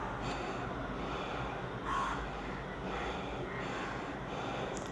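Breathing during a kundalini breathing exercise, several forceful nasal breaths and sniffs over a steady low background hum, close to the microphone.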